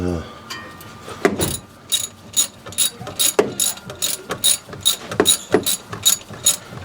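Close ratchet clicking in quick bursts of pawl ticks with short pauses between strokes, as a wrench tightens the idler pulley bolt on a 1989 Chevy Blazer, mechanical clatter loud in the foreground.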